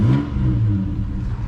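A Volvo 740 GLE engine revs up briefly from about 1,000 rpm, a short throaty vroom close by with a rising then settling roar.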